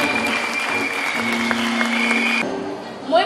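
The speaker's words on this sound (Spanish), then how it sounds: "fuertes los aplausos para Ana Virginia Marín." An audience at an evening pageant to crown a neighborhood queen breaks into steady applause, with a sustained tone and some voices mixed in before it cuts off.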